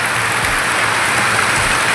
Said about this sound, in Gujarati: જોરદાર વરસાદ પડે છે.